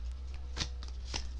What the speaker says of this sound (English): I shuffled this deck so good